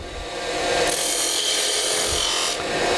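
A skew chisel's toe shears wood on a lathe while turning a cove, giving a steady, loud rasping hiss that swells and holds for the whole stretch.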